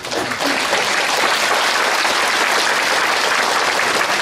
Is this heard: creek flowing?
no